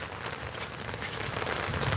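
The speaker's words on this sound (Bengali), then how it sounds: "তো দেখেন কি পরিমাণ আসলে বৃষ্টি হইতেছে" Steady rain pours down in Phulbari, Kurigram, a dense continuous hiss of drops on surfaces that stays even and close for the whole short stretch, with no voices.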